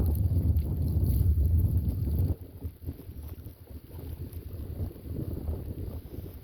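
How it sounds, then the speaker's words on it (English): Small, slow motor boat cruising on a canal at about four miles an hour, a loud low engine rumble with wind noise buffeting the microphone that eases off partway through. "So this boat only goes 4 miles an hour."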